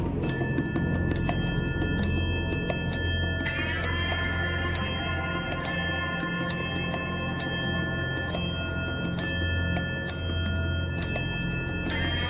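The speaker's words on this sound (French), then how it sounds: "Voici la cloche de l'immunité. À chaque fois qu'elle sonnera, un nouveau lofter sera sauvé." Immunity bell in a Quebec reality show loft, a bright metallic bell struck in a steady repeating rhythm roughly every second, loud and close over a low hum.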